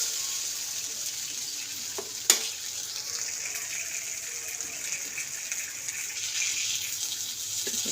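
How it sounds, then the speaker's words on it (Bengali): Boiled masoor dal, cooked with salt and turmeric, goes into a pan of fully softened tomatoes. A single sharp splash is followed by steady soft frying and bubbling, with no talking. "এবারে আমি যে ডালটা নুন হলুদ দিয়ে সিদ্ধ করেছিলাম সেটা দিয়ে দেবো"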